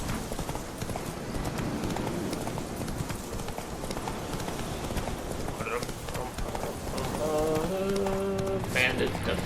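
Horse hooves gallop in rapid, continuous rhythm in The Witcher video game, loud and close throughout, with game sounds and tones rising near the end.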